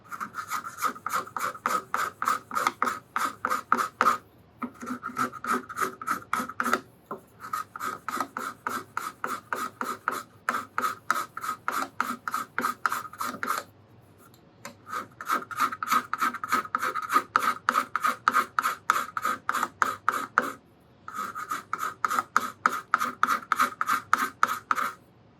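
A bent hand scraper shaves wood on a steel string guitar body in rapid rhythmic strokes, close and crisp, in several long runs separated by brief pauses, with no voices.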